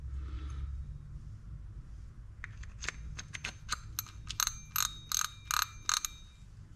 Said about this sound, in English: Nice drag clicker.